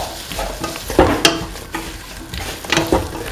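Tomato pieces being stirred into a spice mixture in a pan: a spoon scrapes and clatters close by over a light sizzle, in a few uneven strokes, with no voices.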